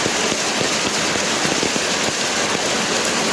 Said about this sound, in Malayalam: കാലമൊക്കെ മൂടി ഭയങ്കര മഴ.